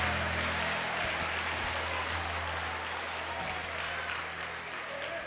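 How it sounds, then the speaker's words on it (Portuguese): A church congregation applauds while taking their seats after a sermon, a steady wash of clapping running throughout over a low hum of sound equipment. "E tome o seu assento aplaudindo a Jesus"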